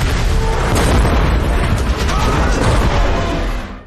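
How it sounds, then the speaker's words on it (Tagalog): A car explodes at a roadside with a loud, sustained explosive roar and dense rumbling debris noise that fades out at the end. "biglang sumabog ang isang kotse sa gilid"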